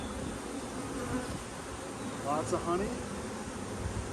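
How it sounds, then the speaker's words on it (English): Agitated honey bees buzz around hive frames while a swarm is collected from an open-air colony below a trap, a steady dense hum with a louder swell near the middle, with a person talking over it. "Now bees are starting to get upset with me"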